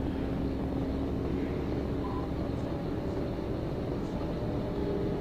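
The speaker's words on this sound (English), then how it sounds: "I can just hear the engine going." A steady low engine roar drones continuously as a gray Dodge Challenger speeds away from state police at well over 100 mph.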